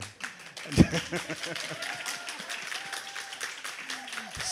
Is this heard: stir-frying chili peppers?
no